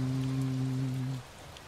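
Thunderstorm rain in the Touhou Genso Wanderer video game, a steady hiss of falling rain under a low droning tone that cuts off partway, leaving softer rain alone.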